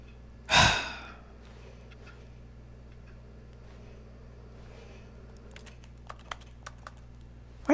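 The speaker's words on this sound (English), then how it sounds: "Why does it sound like a keyboard when I'm pressing the X button?" Keyboard-like clicks sound when the X button is pressed in The Stanley Parable Ultra Deluxe on PS5, a cluster of quick, light taps near the end that follows a sharp sigh-like breath and a quiet stretch.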